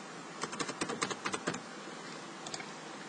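Typing on a computer keyboard while logging into a chat system, heard as a quick cluster of close, crisp key clicks followed by a short pause and two more taps.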